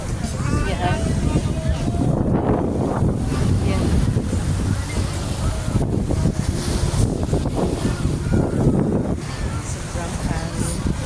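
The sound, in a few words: strong wind at the beach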